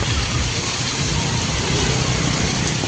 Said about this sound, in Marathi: पाऊस आहे म्हणजे कंटिन्यू पाऊस आहे.